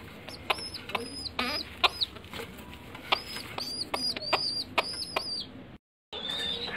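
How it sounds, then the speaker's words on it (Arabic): Tumbler pigeons feed their squabs up close, and the young give repeated shrill, squeaky cheeps in quick bursts over soft rustling and wing movement. A brief silent gap comes near the end. "الحمام هو بيكلف اهو وبيزق زغليل"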